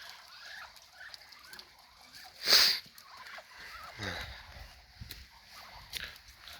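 A large turkey, bigger than a goose, gobbles once in a single loud, rapid burst, with faint shuffling and quiet farmyard noise around it.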